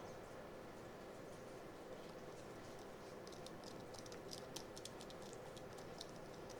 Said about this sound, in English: this is a mechanical keyboard, but it actually feels a little bit like a membrane